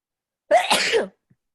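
A single sharp sneeze bursts out close by, followed by a faint tiny click.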